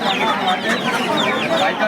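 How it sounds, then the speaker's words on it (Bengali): Fighting chickens clucking in a steady, busy chatter, several birds calling close by throughout. "এটা কি মুরগি? ফাইটার মুরগি?"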